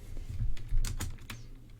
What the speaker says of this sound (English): when I'm recording, I'm really bad at typing